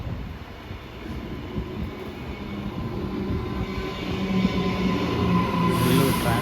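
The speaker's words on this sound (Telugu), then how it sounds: "ఇది ప్లాట్ఫామ్ నెంబర్ 2 మెట్రో వస్తుంది అనమాట." A Queensland metro train pulls into platform 2, a steady low rumble of rolling wagons that grows gradually louder and closer over several seconds, with a faint bright hiss toward the end.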